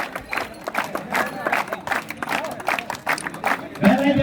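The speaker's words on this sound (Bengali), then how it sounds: "সবাই জুড়ে হাততালি দিয়ে ওনাদেরকে সম্বর্ধনা জানাবেন" An audience at a football tournament claps for the guests, scattered rhythmic applause from a crowd with voices mixed in and a louder burst of noise at the end.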